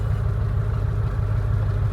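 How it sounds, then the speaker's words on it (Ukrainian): A tractor engine rumbles steadily at close range while pushing piles of sugar beet pulp at a processing site, a loud, low, continuous drone with no voices. "Тут трактор підгортає на даний момент."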